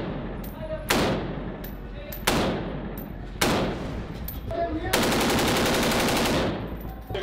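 Bursts of automatic rifle fire at close range on a shooting range: three short loud volleys with pauses between, then a longer sustained burst of rapid shots, with a voice talking faintly in the background.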